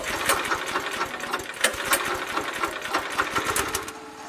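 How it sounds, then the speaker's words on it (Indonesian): A sorghum stalk grinding machine clatters steadily with a fast, rhythmic mechanical chatter, loud and close, running continuously as the stalks are crushed for juice. "Dedi sudah membuat mesin penggiling batang sorghum untuk diambil"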